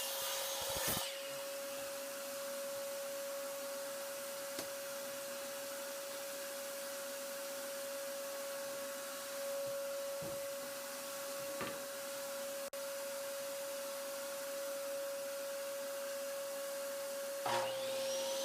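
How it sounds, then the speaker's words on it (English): Wooden board being cut into 19-inch sections for Langstroth beehive medium frames, a continuous power-saw whine with a steady pitch held for the whole stretch, with faint rubbing and a few knocks, close but fairly quiet. "I'm going to be taking that board right there and cutting it into"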